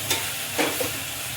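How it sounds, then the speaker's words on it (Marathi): Ginger, cashews and coriander sautéing in a pan for shahi matar paneer, a steady soft sizzle with a couple of light stirring scrapes. "इथे आलं कापून टाकते मी, काजू टाकून घेते, पण कोथिंबीर घेतली होती त्यातली अर्धी कोथिंबीर मी इथे परतवायला टाकून घेते"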